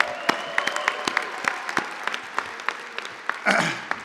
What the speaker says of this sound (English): So if you want to give her a round of applause.